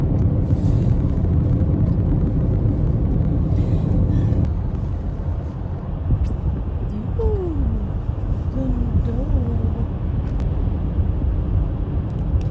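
A continuous low rumbling roar of car tires rolling over snow, steady throughout, with faint wind noise and a brief distant voice.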